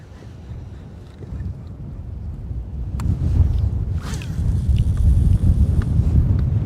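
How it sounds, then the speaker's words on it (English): Wind gusts swirl and rumble across a lake during bass fishing from a boat, a low buffeting roar that builds stronger over the seconds, with a few faint knocks and no clear speech. "That wind is swirling through here, guys."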